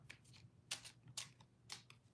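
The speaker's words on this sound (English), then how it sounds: "you'll see when I start to shuffle" Tarot cards are riffle-shuffled close by, giving several crisp, fluttering bursts spaced about half a second apart in an otherwise quiet room.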